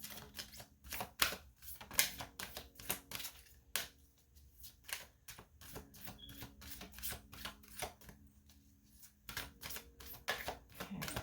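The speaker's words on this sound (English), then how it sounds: "These always flip a ton of cards, so try not to get too crazy here." Tarot cards being shuffled and flipped by hand: a long run of quick, close, soft snaps and taps in uneven bursts, quiet overall, no talk.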